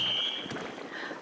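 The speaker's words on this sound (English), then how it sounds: "That's my alarm." An electronic alarm sounds as a single loud, steady high-pitched beep that cuts off abruptly, followed by faint background noise.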